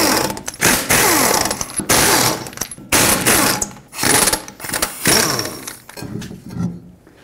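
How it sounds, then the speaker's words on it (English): A 21 mm socket loosens all five lug nuts on the rear wheel of a 2003-2008 Toyota Corolla. Loud, rapid mechanical rattling comes in about five bursts separated by short pauses, with no talking. "Use a 21 millimeter socket and take off all five of your lug nuts so we can take the wheel off."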